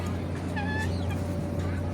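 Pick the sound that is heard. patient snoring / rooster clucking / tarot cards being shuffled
rooster clucking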